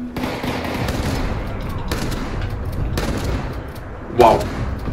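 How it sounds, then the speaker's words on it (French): Gunfire in Fallout 76 from a pump-action shotgun, heard as dense, steady blasts that run through the whole stretch with a sharper burst near the end, while a voice talks over it. "On va passer sur le fusil à pompe au cas où."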